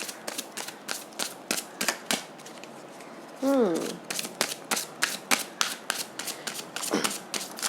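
Tarot cards are shuffled in a rapid run of crisp riffling snaps at close range, with a person speaking over them partway through.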